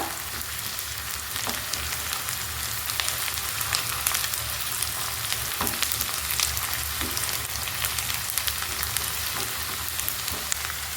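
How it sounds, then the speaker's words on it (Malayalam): Curry leaves and dried red chillies frying in hot oil while being stirred, a dense, steady crackling sizzle throughout with occasional faint utensil scrapes, close and fairly loud, no voices. "നമ്മുടെ വറ്റൽമുളക് ഇത്രയും ഇട്ട് കൊടുത്തിട്ട് നന്നായിട്ടൊന്ന് ഇളക്കി യോജിപ്പിക്കുക"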